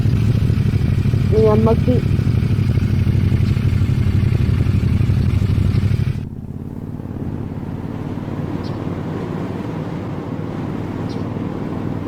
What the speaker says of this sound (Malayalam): ബൈക്കറായി ഇങ്ങനെ പോവാൻ നോക്കാം.